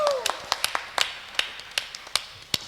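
Scattered, uneven hand claps from a few people at a Filipino church healing service, a dozen or so sharp claps spaced irregularly across a few seconds, fairly close and without talk over them.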